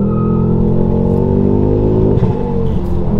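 A Ford Focus ST MK2 tuned to over 300 hp accelerates hard, its loud engine drone climbing steadily in pitch from inside the car, with no talk.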